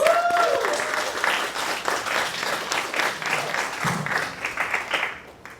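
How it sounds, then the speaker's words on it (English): Audience applause fills a cultural center in New York after orchestra and drum team performances, a dense wash of many hands clapping steadily for several seconds before tapering off at the end. "let's give them a big round of applause"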